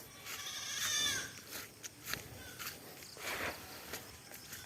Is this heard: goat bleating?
yes